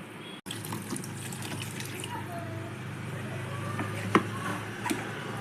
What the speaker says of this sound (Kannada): ಒಂದೂವರೆ ಗ್ಲಾಸಷ್ಟು ನೀರು ಹಾಕ್ತಾಯಿದ್ದೀನಿ ನಾನು